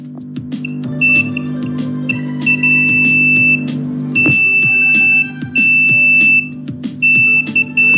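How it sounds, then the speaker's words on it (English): A shrill electronic fire alarm buzzer on an IR sensor and LM324 circuit beeps in repeated bursts over a steady low hum, loud and close. "the buzzer buzzes. Now the alarm is on."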